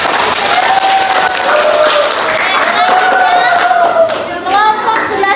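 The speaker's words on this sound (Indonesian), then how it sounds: "Berikan tepuk tangan." A school class applauds loudly and close by, a dense patter of clapping with children's voices and chatter running over it throughout.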